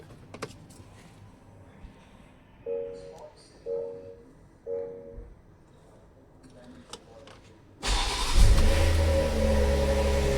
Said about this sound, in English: Okay guys, so now I'm going to start the car.